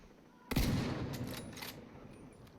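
Gunfire in The Division 2 opens with one sharp, loud shot that rings out briefly, followed by a few fainter cracks during a fight with an elite tank enemy.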